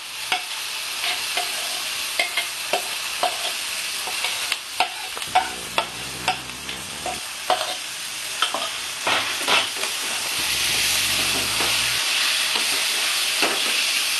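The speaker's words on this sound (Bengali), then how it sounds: "আমি এবার এই মাখা মাংসটা এতে দিয়ে দেবো।" Marinated mutton hits hot oil and spiced masala in a pan for Bengali mutton kosha, giving a steady loud sizzle with repeated scraping and stirring clicks throughout.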